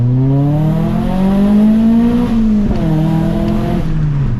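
Car engine with a modified, louder intake revs steadily, its raw, throaty drone climbing in pitch, dipping briefly and rising again, close and loud with no talking.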